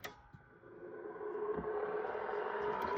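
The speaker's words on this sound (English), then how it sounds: "Now this one's really loud because this drive actually has bad bearings." An Apple Lisa Widget hard drive with worn bearings spins up, its steady whine and rough rumble swelling louder over a few seconds, with no talking.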